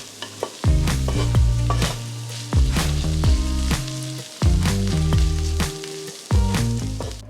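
Thawed corn and black beans frying in a pan, a steady close sizzle broken by repeated scraping stirs, each stroke leaving a short tonal squeak from the utensil against the pan.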